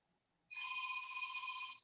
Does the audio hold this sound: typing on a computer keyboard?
no